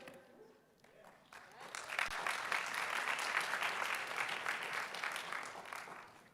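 Applause from the audience at a charity pitch competition finals honours the Audience Choice Award winners, building after a second into steady, dense clapping that fills the hall and holds loud until the end.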